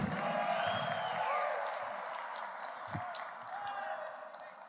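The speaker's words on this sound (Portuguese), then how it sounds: "Mais uma vez, aplausos de vocês para Oswaldo Freire" A large conference audience at a municipal managers' gathering applauds the speaker Oswaldo Freire, steady dense clapping of a big crowd in a hall with faint voices amid the applause.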